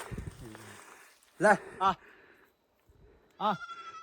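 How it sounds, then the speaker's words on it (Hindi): Three loud, nasal goat bleats, two close together and a third after a pause, with someone talking quietly before them. "आवाज़ तो आ रही है बकरी की"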